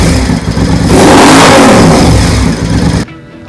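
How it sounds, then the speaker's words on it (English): A Triumph Scrambler 900 revs through a very loud custom exhaust pipe: one close, harsh, roaring blip that swells and holds for about three seconds before cutting off to near silence. "These are a very loud pipe, probably the loudest pipe that we have."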